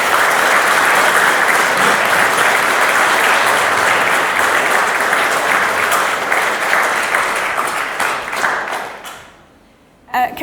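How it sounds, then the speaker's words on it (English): Wedding guests at a ceremony break into loud, sustained applause that fills the room for about nine seconds before quickly fading out, with a brief voice just at the end. "Can we have another round of applause before we finish"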